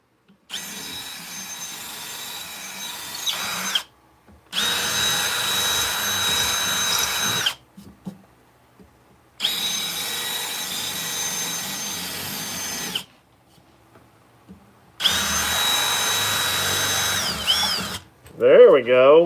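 A power drill whirs in three long, steady bursts separated by short silences, each run loud and close with a constant motor whine, and a brief wavering sound at the very end.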